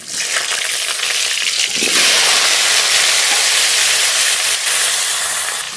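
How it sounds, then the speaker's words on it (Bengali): Cut potatoes with salt and turmeric fry in mustard oil in a wok, a loud, close, continuous sizzle that swells slightly as they are stirred. "লবণ হলুদ গুঁড়ো আলু খুব ভালো করে ভেজে নেব"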